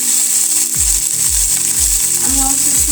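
Chanda fish fry in hot oil with a loud, constant crackling sizzle, close up, overlaid by a run of regular low scraping pulses, likely from a utensil moving in the pan.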